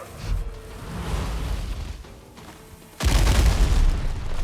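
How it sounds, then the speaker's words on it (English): A musket fired in the game Windrose, heard as a loud booming blast that jumps up sharply partway through, over a dense rumbling battle noise. "Another well-placed shot."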